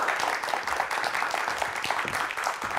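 A studio audience on a Korean broadcast talk show welcomes a KT Big Data Center executive with steady crowd clapping, a continuous patter of many hands at moderate volume with no talking.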